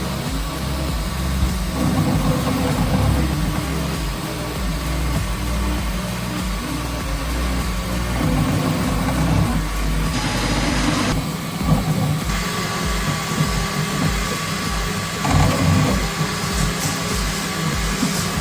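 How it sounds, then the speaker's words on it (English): A 3D printer running its first print with the print head moving fast, giving a loud, continuous mechanical whir and hum whose pitch and texture shift as the head changes direction. "Look how incredibly fast the printing head moves."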